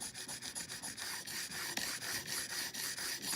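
A thin chisel is sharpened on a Sharp Skate, giving a steady back-and-forth rasping rub in an even rhythm of quick strokes, close and continuous.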